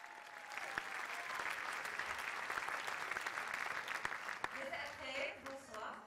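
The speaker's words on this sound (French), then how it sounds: "Mesdames et messieurs, je vous demande d'applaudir chaleureusement la seule" Audience applause fills a music awards ceremony in Morocco, sustained dense clapping from a large crowd at moderate distance, with a few sharper claps and some voices rising near the end.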